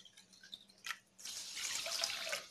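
Water poured into a cup while making custard powder halwa, a few faint drips and then a steady splashing stream that grows louder and fills the second half, with no talk.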